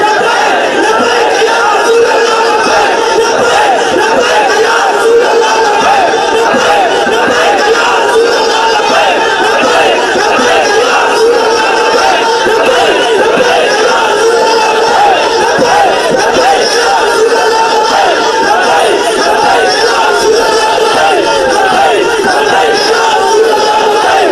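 A large crowd chants the religious slogan Labbaik Ya Rasool Allah in unison, a dense, loud roar of many voices holding steady for the whole stretch without a break.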